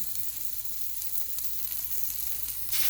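A mung bean pancake sizzles steadily in a hot oiled pan, a continuous close crackle with no talking, ending in a brief louder burst.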